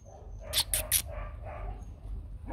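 Several dogs at a Vietnamese breeder's yard selling curly-coated and bobtailed guard dogs, one giving three quick sharp barks amid a low background hum, with a person talking quietly afterward.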